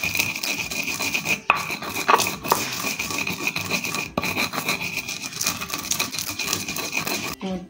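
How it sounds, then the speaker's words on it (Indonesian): Roasted spice paste for goat satay being ground by hand, a steady scraping, rasping rub that runs close and continuous with brief pauses, with no talk. "Setelah bumbunya kita sangrai, saatnya kita akan menghaluskannya. Kita haluskan bumbunya."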